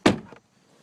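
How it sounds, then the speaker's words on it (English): A 2012 Ford Focus car door slams shut once with a solid, close thud and a short rattle, followed by near silence. "So let's go ahead and close the door"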